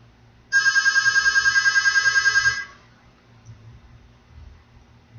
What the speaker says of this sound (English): That's the phone that goes to my fax, just please ignore it.